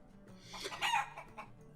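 A generic chicken character in the Lord of the Rings Online game clucks and crows in a short burst of bright, rising fowl calls, moderately loud with no talk over it.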